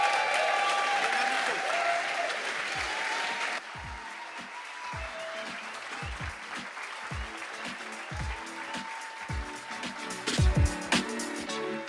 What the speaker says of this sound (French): I want you to make a standing ovation